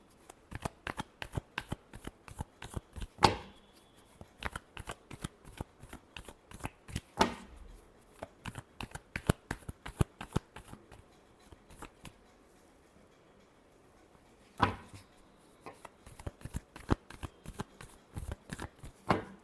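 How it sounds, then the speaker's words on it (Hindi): Tarot cards shuffled by hand in repeated quick riffling bursts with short pauses between, close and crisp, without any talking. "last shuffle"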